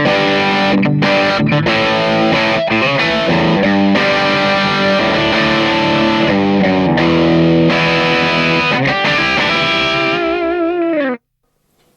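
Electric guitar through a Carl Martin PlexiTone low-gain overdrive pedal, mild and crunchy, plays chords and short riffs for several seconds, then cuts off abruptly into silence.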